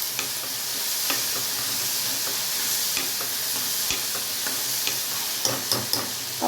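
Turkey berries in an Indian-style kootu curry are stirred in a hot pan, giving a constant sizzling hiss broken by occasional sharp scrapes of the spoon.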